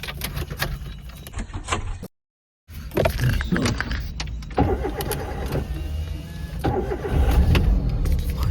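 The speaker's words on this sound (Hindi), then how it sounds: "गाड़ी चाबी लगाऊं, शीशा ऊपर होगा" Car in a forest at night started with the key: a short burst of cranking catches into a running engine after a brief gap, with whirring and clicks consistent with a power window rising over the idle.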